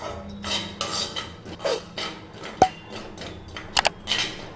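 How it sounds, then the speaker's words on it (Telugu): A spoon clinks and scrapes against a bowl while stirring henna powder into oil, giving a string of sharp metallic taps and rattles at an irregular pace, close by with no talk. "హెన్నా పౌడర్ వేసుకున్న తర్వాత స్పూన్ తో బాగా కలుపుకుందామండి"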